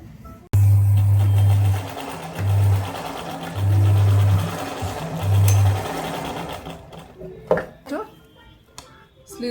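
A sewing machine stitching the front part of a garment, running close and loud in several short bursts with pauses between, while someone talks over it; handling noises follow as the machine stops.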